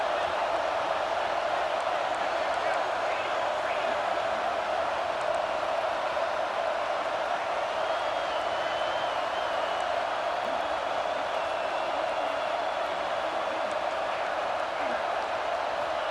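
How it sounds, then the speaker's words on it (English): Steady, dense stadium crowd roar from a college football video game fills the whole stretch, a constant wash of many voices at even loudness with no clear peaks. "Listen to the crowd energy here in the early going."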